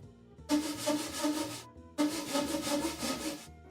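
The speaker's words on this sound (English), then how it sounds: "Get the saw back in the kerf." Hand saw cutting wood along a line, two long rasping strokes close by, each a little over a second long, with a brief pause between them.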